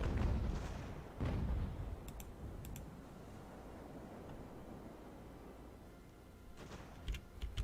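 Cannons firing grapeshot in the naval battle game Ultimate Admiral Age of Sail, heard as several booming blasts and sharp cracks over a steady rumbling sea-battle background, with a few louder reports near the start and end.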